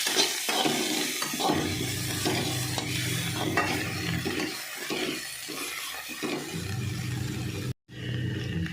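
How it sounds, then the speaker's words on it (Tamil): Onion and cumin sauté on a low flame in a pan as a spoon stirs them, giving a steady soft sizzle with scraping and stirring noises, and a brief drop to silence near the end. "சிம்மில் வச்சு வதக்குறோம்"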